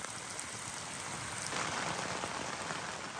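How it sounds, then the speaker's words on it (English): Steady rain pours down at night, a dense, even hiss of drops on surfaces that stays loud and unbroken throughout, with no voices. "we took shelter from the rain as it continued to rain and rain and rain into the night"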